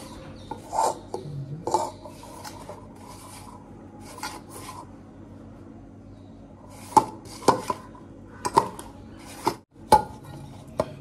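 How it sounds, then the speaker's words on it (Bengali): Wheat flour dough is kneaded by hand with water in a home kitchen, giving soft, sporadic squishing and rubbing sounds with occasional light knocks against a bowl, faint and intermittent amid near silence. "এবার আস্তে আস্তে এটা জল দিয়ে দেখি মাখি।"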